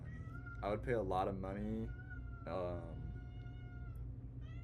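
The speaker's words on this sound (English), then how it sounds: "As my cat is talking in the background." A pet cat meows and chatters in several drawn-out calls, fairly close, while a person talks quietly in the room.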